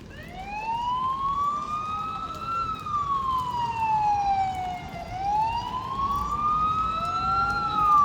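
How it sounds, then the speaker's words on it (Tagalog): Emergency sirens, likely fire response, wail in rising and falling sweeps near the Pasig River, several overlapping, fairly loud and continuous over distant traffic. "Ala, mukhang may sunog na naman, ganyan ng mga sirena, no?"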